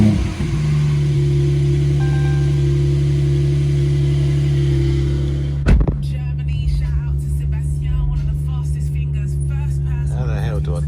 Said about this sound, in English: You put it in sport and it opens up the exhaust as well.